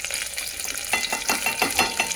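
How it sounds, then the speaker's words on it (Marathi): Onion frying in a pan for a spicy mutton curry, a soft steady sizzle broken by a quick run of scraping stirring strokes in the second half. "आता याच्यामध्ये कांदा द्यायचं टाकून आणि हे छान असं परतून घ्यायचं व्यवस्थित"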